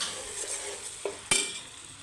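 Ginger garlic paste frying in a pan for a fish curry gives a steady soft sizzle, with a couple of sharp stirring clinks near the end.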